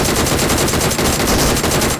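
Automatic gunfire in the PUBG Mobile video game, a loud, rapid, continuous stream of shots packed tightly together, with only a brief break near the middle.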